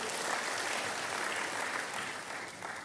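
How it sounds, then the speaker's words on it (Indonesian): A congregation at a church sermon applauds in a continuous, fairly faint wash of clapping that holds for about three seconds with no voices over it. "Berikan tepuk tangan bagi Tuhan."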